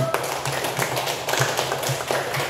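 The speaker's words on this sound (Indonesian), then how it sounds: "Oke, tepuk tangan dulu." Schoolchildren in a classroom clap together in a loose, repeating rhythm of sharp, close hand claps, with small pauses between bursts.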